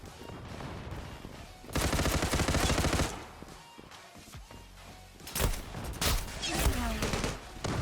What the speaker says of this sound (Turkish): Pompalıyla çoklu kıyım yapıyorum